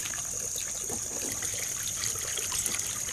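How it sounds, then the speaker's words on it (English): Water pours steadily from an old plastic milk jug into a sand and Portland cement mix, a continuous close splashing and trickling stream with no breaks and no talking. "I'm putting a lot of water because it's going to take a lot of water"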